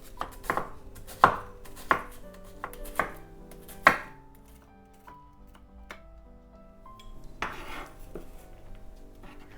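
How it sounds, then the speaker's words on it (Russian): A knife chops an onion finely on a cutting board, with several sharp, distinct knocks of the blade spaced irregularly, followed by quieter scraping and light handling sounds, close and clear without talk. "Лук нарезаю мелко."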